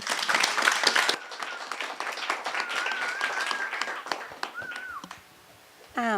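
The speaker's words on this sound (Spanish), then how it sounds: "Les pido por favor un fuerte aplauso." Audience applause at an academic humanities panel on audiovisual media, a dense burst of clapping for about five seconds that thins out, followed by a brief electronic tone and a short squeal at the end.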